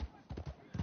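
Horse hooves walking at a slow gait in a video game, a few soft clip-clop thuds spaced unevenly, fairly faint and close.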